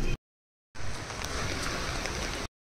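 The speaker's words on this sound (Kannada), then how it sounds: "ಮಳೆ ಬರ್ತಾನೆ ಇತ್ತು," Monsoon rain falling at the Kunkeshwar temple in coastal Konkan, Maharashtra, a steady, broad rushing patter heard in two cut segments, the longer one continuous and fairly close, with no speech.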